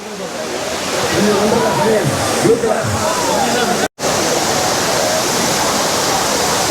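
Courtallam's main waterfall pours down in a loud, continuous broadband roar of crashing water, with a crowd and talk blending faintly underneath and one brief dropout.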